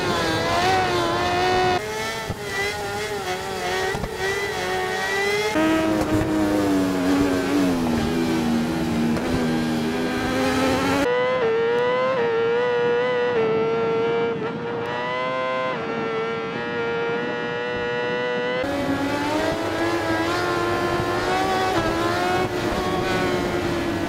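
A motorcycle engine at full throttle in the racing game Ride 4, the bike leaned over with the rear tire spinning up; a loud, continuous high-revving whine with rising and falling pitch sweeps runs throughout, with no talking.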